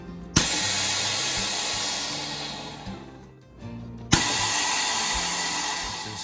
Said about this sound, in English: we vacuum seal them for travel